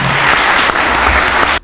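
Students applauding together at a gathering in Gaziantep, a dense, loud and continuous burst of clapping that cuts off abruptly at the end.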